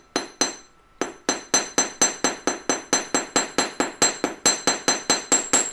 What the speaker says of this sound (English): Once I've hammered randomly along the whole piece, I'm going to go back in and carefully hammer along the edges.